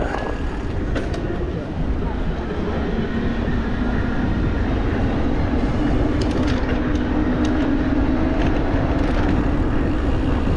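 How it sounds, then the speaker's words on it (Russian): An electric commuter train rumbles past at close range on a Crimean route near Feodosia and Koktebel, a steady loud roar with rail clatter running the whole way, while voices murmur faintly underneath. "Электричка,"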